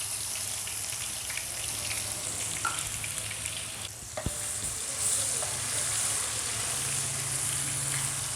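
Ginger garlic paste sizzling in hot oil in a pan for a dhaba-style potato gravy, a continuous steady frying hiss with small crackles and a brief clink of a utensil partway through, no talk.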